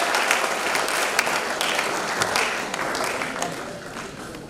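Students at an annual college event applaud in a continuous, dense wash of clapping that holds steady throughout, with faint voices underneath.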